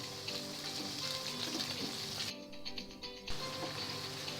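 Chili chicken frying with vegetables in a pan after pepper powder and chicken stock are added, a soft continuous sizzle with a brief quieter gap, faint and close, no talking.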